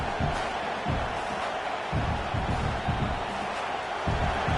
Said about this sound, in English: It's early, but this crowd is fired up.